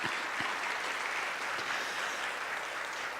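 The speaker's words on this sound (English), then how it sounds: "Please give all of those folks a round of applause as well." Audience applause at a community impact report forum, a steady moderate wash of clapping from a seated crowd, fairly soft and continuous for a few seconds.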